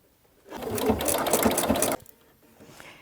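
A sewing machine stitches a table runner in a steady rapid whir for about a second and a half, close and fairly loud, then stops abruptly, leaving quiet room sound.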